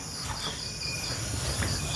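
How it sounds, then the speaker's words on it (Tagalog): Crickets chirp steadily in a quiet rural spot, a constant high trilling close by with no other sounds breaking through. "Yung mga kuliglig lang yung naririnig mo."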